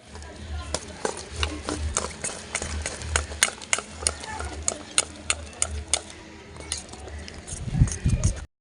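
A spoon beating banana cake batter with cashews and raisins in a bowl, steady rhythmic clicks and squishy strokes repeating about twice a second, close and moderately loud.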